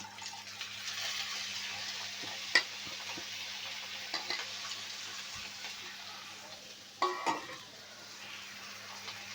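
Chopped eggplant, beans, radish and potato added to a pan for a small-fish vegetable curry, giving a faint steady sizzle broken by a couple of brief clattering knocks.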